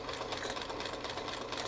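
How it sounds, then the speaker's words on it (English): A sewing machine stitches the end of a fabric project bag with a rapid, even mechanical whir and patter, close and steady throughout. "I've sewn one end, and I'm going to sew the other end"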